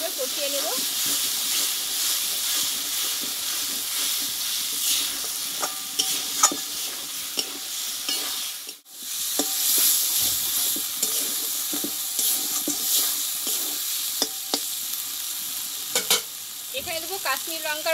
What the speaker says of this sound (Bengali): এবার ডাল আলুটা একসঙ্গে আমি মশলার সঙ্গে ভালোভাবে কষিয়ে নেব।